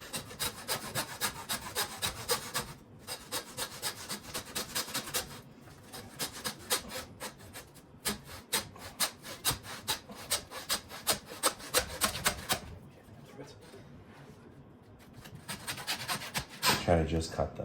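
Hand saw cutting through pig spine bones, a close rhythmic rasping of back-and-forth strokes with brief pauses between runs of strokes.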